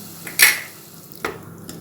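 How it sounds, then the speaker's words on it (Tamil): A few sharp clanks of a utensil against a pan, two louder scrapes amid quiet background, as food is stirred. "போட்டு நல்லா இப்போ கிண்டி வதக்கலாம்."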